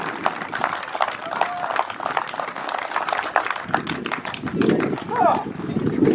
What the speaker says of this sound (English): we really want to give a big round of applause and a big thank you to Georgie Wilkin